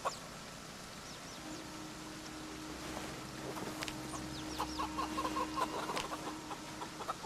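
Farm chickens in the video game Project Zomboid cluck and chirp in scattered bursts over a steady low hum, moderately near and fairly faint.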